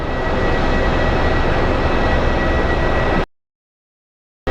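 At Phoenix Sky Harbor airport, an airplane gives a loud, steady broadband roar of jet noise with no talking, then cuts off abruptly into silence.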